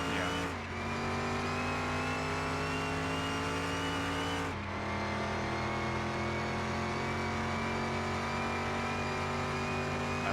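A 1936 Fiat 500 revs hard in a video-game drag race, its engine a steady, continuous drone that climbs in pitch, drops sharply at two gear shifts, and climbs again, loud throughout.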